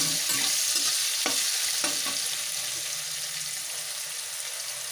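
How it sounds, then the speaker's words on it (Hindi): Onions with asafoetida sautéing in a pan for idli sambhar, a steady close sizzle with a few sharp stirring clicks early on, fading slightly toward the end, no talk. "अब इसको थोड़ी देर भुनाएंगे।"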